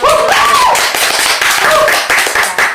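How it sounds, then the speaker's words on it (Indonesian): Hands clap during a student podcast recording, with sharp taps close to the mic and a rising, whooping voice over them. The sound is brief and fairly loud. "Beri tepukan gemuruh."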